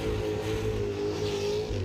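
Big Holden Monaro doing a burnout in a confined space at a burnout competition, engine held at a steady, loud droning rev with a strong low harmonic tone as the throttle is feathered, continuous and close.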